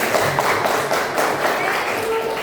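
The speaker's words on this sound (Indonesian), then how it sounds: "Tepuk tangan untuk kita semua." A class of junior high students claps together in a classroom, a dense, continuous burst of applause close and loud for a couple of seconds.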